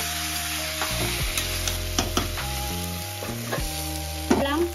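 Potatoes and vegetable stems frying in a pan are stirred, with a steady sizzle broken by a few scraping, clattering strokes of the spoon, close and fairly loud, without speech.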